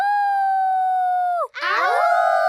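Cartoon characters imitate a wolf howling, first one long sustained howl that dips and breaks off, then several voices join in a layered, wavering chorus of howls.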